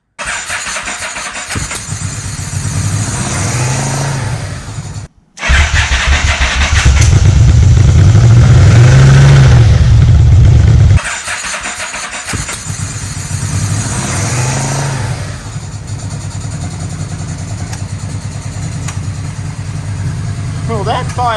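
An engine on a choke is cranked and fires quickly, then settles into a loud, steady close-up idle that runs without a break. A brief silence comes near the start and the engine revs for a few seconds in the middle.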